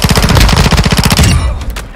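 Rapid automatic gunfire in a video game, a loud close burst of evenly spaced shots for over a second, then several sparser shots trailing off.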